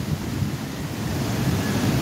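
Rough storm-surge seas at Nato Port in Sagñay, Camarines Sur, Bicol, heard as a continuous loud roar of surf heavily buffeted by wind noise, with no talk.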